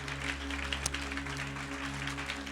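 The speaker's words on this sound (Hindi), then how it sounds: "क्यों ना उस लहू के लिए जोरदार ताली बजाएं।" A church congregation at a Sunday worship service claps loudly and steadily together, a dense and sustained wash of applause that fills the hall.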